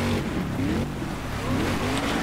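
Rally car engine in the PC racing game DiRT 2, a steady loud drone with rising and falling harmonic tones across the whole stretch, suggesting revving under gear changes.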